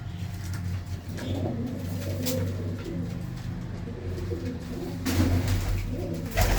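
Pigeons coo in low, soft, repeated calls nearby, with faint rustling and distant traffic in the background.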